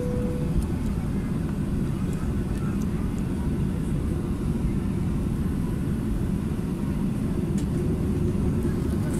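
A jet airplane taxiing at Katowice-Pyrzowice Airport before takeoff, with a steady loud engine rumble and whine heard from inside the cabin, unbroken throughout.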